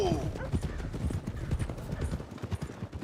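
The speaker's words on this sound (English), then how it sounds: "let's leave the horses here off the main drag" Horse hooves clip-clopping in the video game Red Dead Redemption 2, a rapid run of close hoof beats on a street that slows and settles, with a brief whinny near the start.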